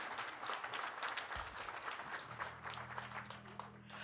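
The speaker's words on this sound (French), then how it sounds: "Vous pouvez vous applaudir." A church audience at a praise concert applauds itself, a continuous, moderately distant patter of many hands, while a low sustained musical tone comes in underneath partway through.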